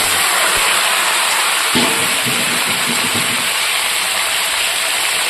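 Cauliflower frying in oil makes a loud, steady hissing sizzle close by, broken by a couple of dull thumps from the pan.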